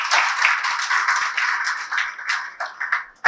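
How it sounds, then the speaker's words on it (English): An audience claps in a round of applause at an interview event, a dense continuous patter of many hands, moderately loud and close, tapering slightly before a final burst. "So round of applause for Mark."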